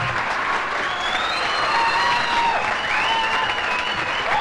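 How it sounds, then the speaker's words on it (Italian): A crowd applauds a karate fighter before a bout, a broad continuous wash of clapping with thin whistles or shouts weaving through it, steady in level throughout. "Un applauso al sicuro vincitore, il toro!"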